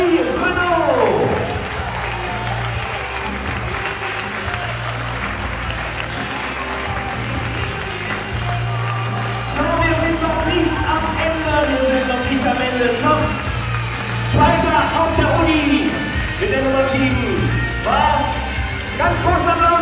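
Audience applause at a German talent show stage event, a steady wash of clapping from a crowd running throughout, with a host's voice talking loudly over it.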